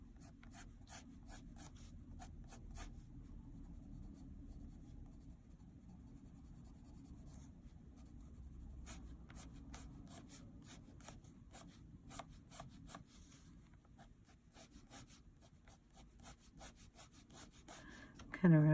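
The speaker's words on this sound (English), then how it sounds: "Kind of rotating the pencil so the sharpest edge will be down on the paper." An Inktense pencil rubs and scratches across paper in quick, dense strokes, a steady close-up scribbling rasp that runs throughout with brief pauses and a louder bump at the end.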